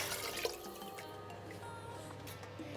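Beef stock drips and splashes steadily into a stew pot, a quiet continuous pouring with a faint low hum underneath.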